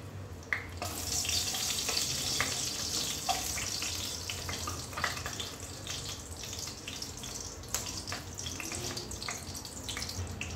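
Cumin seeds, a bay leaf and a broken dried red chili frying in a spoonful of oil, a soft continuous crackling sizzle with scattered pops and light stirring clicks.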